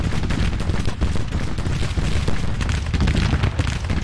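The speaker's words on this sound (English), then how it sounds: "They've got those Sharps rifles, so they fire fast." Dense Civil War battle gunfire from Sharps rifles in Grand Tactician: The Civil War, a steady, loud roll of overlapping shots with booming low rumble and no gaps throughout.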